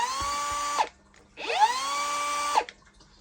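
A Makita 3-inch cut-off tool spins up twice in short runs, each a high, steady whine with a rising start and abrupt stop, close and loud with brief quiet between.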